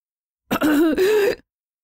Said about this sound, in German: Ein Geräusch zwischen Schluchzen und Räuspern erklang.